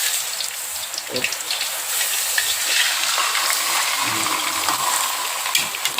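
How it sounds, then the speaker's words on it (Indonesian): Carp sizzling as it fries in hot vegetable oil, a steady dense crackle and hiss throughout, fairly close, with brief faint thumps of handling. "Selanjutnya kita goreng ikan mas."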